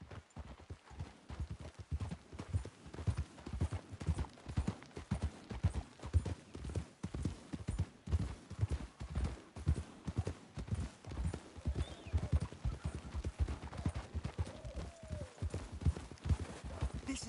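Steady, rhythmic clip-clop of horse hooves in Red Dead Redemption 2, several horses walking close by, with a brief whinny near the end and faint background ambience; no talking.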